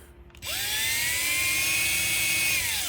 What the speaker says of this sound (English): So we're gonna have to drill these holes a little